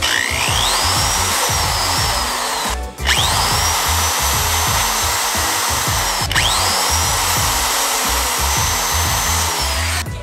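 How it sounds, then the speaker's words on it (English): A power drill whirs loudly and close, enlarging bolt holes for mounting a racecar steering wheel, running in three long bursts with brief pauses, its pitch rising and dipping as it bites into material. "So I'm just gonna drill them out a little bit bigger"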